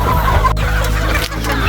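Gamefowl chickens cluck at a game farm on Green Island, with dense, close clucking and fowl calls filling the whole stretch without pause.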